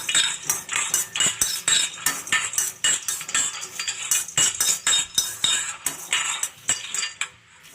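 A spoon scrapes and clinks against a pan while peanuts are stirred and dry-roasted on a low flame for chutney: quick, irregular metallic scrapes and rattles that repeat steadily at close range.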